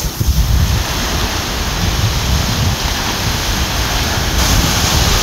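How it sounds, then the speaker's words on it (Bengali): Sea waves crash against rocks at Seethapalem cave beach near Vizag, heard as a loud, continuous roar of surf with heavy wind buffeting the microphone. "ঢেউগুলো কীরকম পাথরে আছড়ে পড়ছে"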